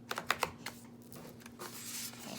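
A deck of yarn tarot cards is shuffled by hand, a few quick close riffling clicks and soft slides, then quieter shuffling rustle, no speech.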